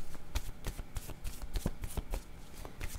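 Oracle word cards are shuffled in a steady run of crisp riffling flicks, about a dozen quick snaps spread over three seconds, close and moderately quiet with no voices.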